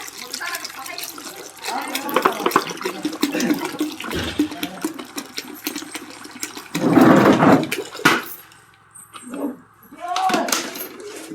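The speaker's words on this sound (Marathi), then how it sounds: "आता त्याच्यामध्ये राहिलेलं 5 लिटर पाणी टाकून घ्यायचं।" Water poured into a bio-fertiliser mixture for an onion crop, a loud gushing pour around the middle, with watery splashing and a person talking before and after.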